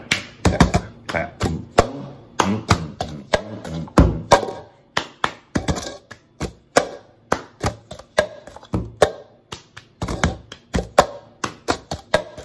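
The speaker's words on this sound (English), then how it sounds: "Clap, tap, clap." A crisp rhythmic pattern of hand claps and taps for a children's music lesson plays close and loud in an even beat, with short pauses between phrases.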